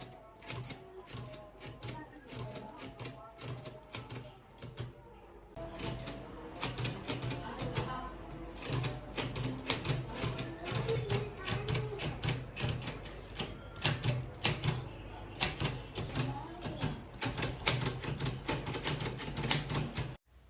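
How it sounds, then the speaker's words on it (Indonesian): A manual typewriter clacks out a proclamation text in a school drama set in 1945 Indonesia, with rapid uneven key strikes and carriage sounds running for most of the passage, a short pause early on, and faint voices underneath. "Soekarno memerintahkan Sayuti Melik untuk mengetik teks proklamasi."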